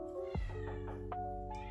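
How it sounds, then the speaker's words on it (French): A house cat meows a few times in a row, close and clear, the calls rising and falling over a steady low background hum with no talking. "c'est mon chat qui miaule"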